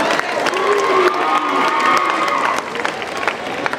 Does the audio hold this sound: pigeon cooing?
no